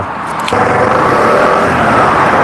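A motorcycle engine, just repaired on site, catches abruptly and settles into a loud, steady idle close by, with no talk over it.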